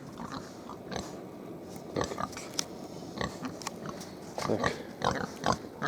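Pigs grunt and snuffle close by in an irregular string of short, rough bursts over constant farmyard rustling, with no talking.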